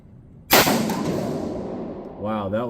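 A single loud, sharp crack from a Cru Arms TEMP556 piston-driven .22 rifle, fired sandbagged, is followed by a long fading echo, then a brief voice speaks over the tail.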